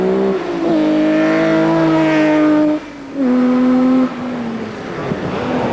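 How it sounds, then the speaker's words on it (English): A Cosworth rally car on a winter rally special stage, its engine droning loud and steady at high revs, dropping briefly as it shifts, then picking up again and fading slightly as it passes. "that car sounds absolutely glorious"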